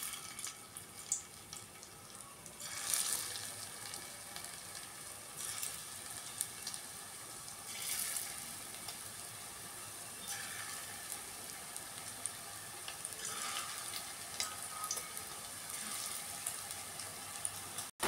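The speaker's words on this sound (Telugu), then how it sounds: "ఇలా అన్నీ ఫ్రై చేసుకోవాలి." Food fries in hot oil with a continuous, soft crackling sizzle that swells briefly now and then and stays fairly faint throughout.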